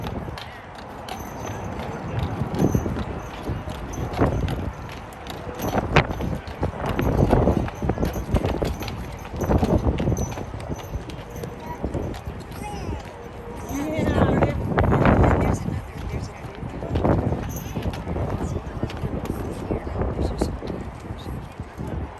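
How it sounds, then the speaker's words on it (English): A Clydesdale wheel horse walks over toward a wagon at an outdoor horse show and parade, its heavy hooves clip-clopping steadily on hard ground while someone talks over a loudspeaker and a crowd murmurs. "we have our second wheel horse coming over to our wagon"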